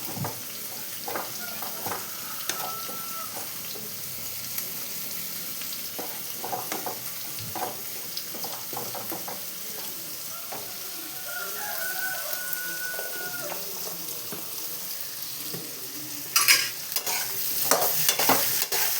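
Bitter gourd frying for theeyal curry gives a continuous soft sizzle with frequent stirring clatter, while a rooster crows now and then in the background.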